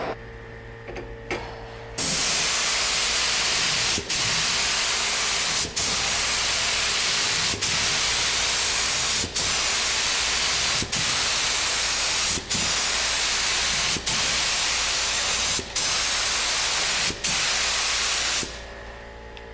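A spray gun lays a tack coat of paint on an old junkyard Cadillac in a steady, loud, close hiss lasting many seconds, broken by brief regular pauses, with quieter handling sounds before the spraying starts.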